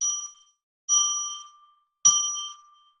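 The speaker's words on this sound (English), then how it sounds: "I'm going to ring a bell 3 times now" A small bell rung three times in a sacred-space ritual gives three clear, bright dings spaced about a second apart, each ringing out and decaying in an otherwise silent room.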